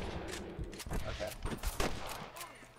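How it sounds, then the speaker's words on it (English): Rapid bursts of gunfire in Red Dead Redemption crackle in a dense volley, mixed with faint voices and background noise. "I can hear more gunshots"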